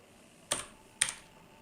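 Two sharp keystrokes on a computer keyboard, close and clicky, about half a second apart over a quiet room hum.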